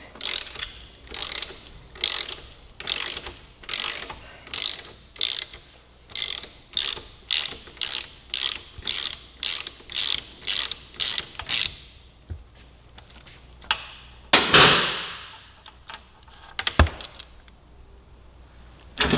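A wrench ratchets to loosen a jam nut and free the main pivot bolt on a 2018 Suzuki GSX-R1000 motorcycle: a regular series of close, sharp clicking strokes, then a louder metallic scrape and a few isolated knocks.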